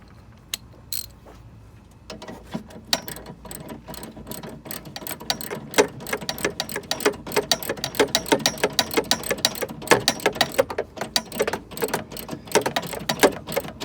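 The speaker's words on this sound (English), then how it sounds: "I could probably switch to my non-swivel ratchet" Rapid clicking of a non-swivel hand ratchet tightening engine torque strut bolts on a 2009 Nissan Murano, a close, brisk run of sharp ticks in bursts, fairly quiet, with no talking.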